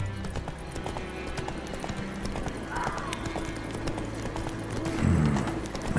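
Roach, a horse in The Witcher 3, gallops with a rapid, rhythmic clip-clop of hooves over a steady backdrop, briefly swelling louder near the end.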